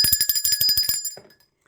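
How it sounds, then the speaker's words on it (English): A bell is rung during an ancestral veneration practice, struck in a quick run of about a dozen bright, ringing hits before the tone fades out quickly. It sounds close and clear with no voices. "Let me ring the bell."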